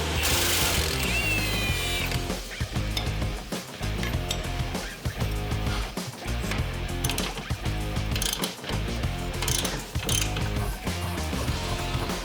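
Ratchet wrench clicking rapidly while upper and lower shock bolts come off the original coilover shock of a 1997-2002 Plymouth Prowler, close and loud, with dense mechanical ratcheting over the whole stretch.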